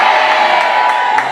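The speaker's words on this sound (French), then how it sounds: "Quelqu'un l'applaudit très fort" A church congregation erupts during a sermon, a loud, brief burst of crowd cheering and whooping with a dense roar of voices and applause.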